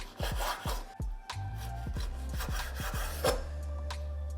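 Knife slicing cured pork into small cubes on a cutting board for carbonara: a series of scraping, sawing strokes and firm taps at an uneven pace, close and distinct, with a low hum underneath.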